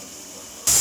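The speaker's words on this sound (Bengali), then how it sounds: "এবার আমি সিটি মেরে নেবো।" A pressure cooker cooking mutton suddenly bursts into a loud, bright hiss of escaping steam after a quieter, steady background noise, the blast starting near the end and running on without pause.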